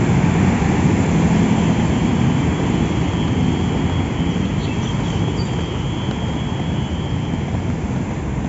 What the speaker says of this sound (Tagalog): puro motor talaga sila